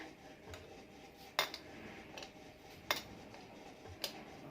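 Three sharp metallic clinks ring out at irregular intervals as metal spoons tap together while measuring instant yeast, over a quiet background.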